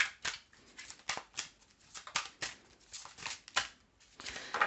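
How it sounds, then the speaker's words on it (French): Large tarot-style cards are shuffled by hand in a run of soft, papery riffles and slides, quiet and close, repeating in uneven bursts. "Elles sont un peu grandes ces cartes, mais ça va. Non, elles veulent pas sortir."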